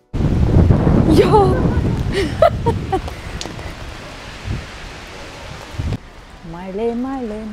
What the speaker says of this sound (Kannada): ಮಳೆ ಮಳೆ ಮಳೆ